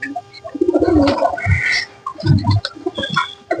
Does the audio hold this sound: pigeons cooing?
yes